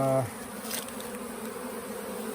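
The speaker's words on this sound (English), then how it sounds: "we attracted a swarm" A swarm of honeybees gathers outdoors around caged queens; a dense, continuous buzzing hum, close and steady, with no voices.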